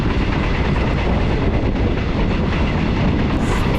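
A northern-line passenger train in Thailand rumbles loudly and continuously nearby, a dense steady roar of wheels and carriages with faint rhythmic clatter.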